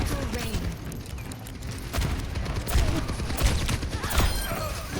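Gunfire in the Overwatch 2 video game during a payload push on Havana, rapid repeated shots and impacts mixed with game effects and intermittent voices.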